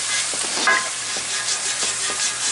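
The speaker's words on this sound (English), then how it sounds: "if you don't get that sizzle, it's not gonna clean it." Water hisses and sizzles steadily on a hot Lodge cast iron griddle, with soft scrubbing strokes of a brush coming and going.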